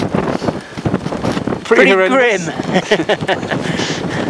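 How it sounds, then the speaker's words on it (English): Gusty wind buffets the microphone in rough bursts while someone talks over it outdoors in a Patagonian winter, after descending from a snow hole. "Windy, but it's not so bad here. Slightly sheltered here, but you get these gusts"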